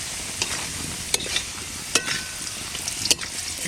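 Koi fish sizzles steadily in hot oil in a pan, a close, continuous frying hiss broken by a few sharp clicks and scrapes from a spatula stirring.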